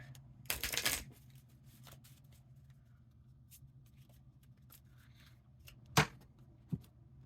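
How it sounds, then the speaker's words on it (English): Tarot cards are shuffled with a short riffling burst near the start, then a quiet pause and a few sharp card snaps and slaps later as cards are pulled, all close up and fairly soft. "Let's go ahead and pull some cards and see what the message is for you today."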